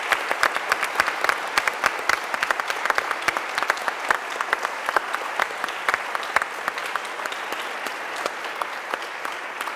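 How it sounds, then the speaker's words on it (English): A panel audience at a talk on consciousness claps for the behind-the-scenes crew, crisp individual hand claps standing out in a fairly sparse, steady round lasting nearly ten seconds. "just a big round of applause for all the people working behind the scenes as well"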